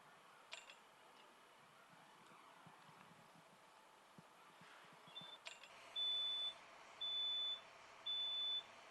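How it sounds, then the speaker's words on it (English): A smoke alarm sounds three evenly spaced, shrill beeps near the end, each lasting about half a second, after a stretch of faint background rustling and clatter. "The smoke alarm's going off."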